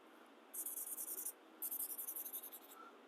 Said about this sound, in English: a marker and just draw along the bottom